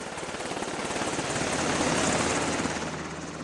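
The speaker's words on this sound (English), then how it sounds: "A medevac chopper is called in to airlift the wounded man to a military hospital in Kandahar." A military medevac helicopter comes in to airlift a wounded soldier in Kandahar, Afghanistan, its loud rotor thudding and turbine roar filling the air close by and swelling slightly as it nears.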